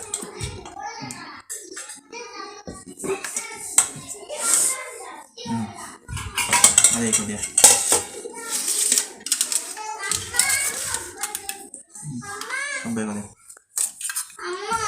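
Dishes and cooking pots clatter and clink repeatedly during village Sankranti festival cooking, with frequent metallic knocks under ongoing talk and a voice.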